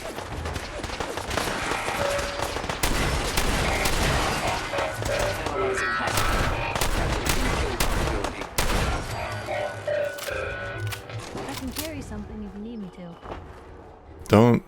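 Rapid gunfire in the video game Fallout 4, a dense barrage of close, loud shots and impacts with crashing effects and game voices talking over the fighting throughout.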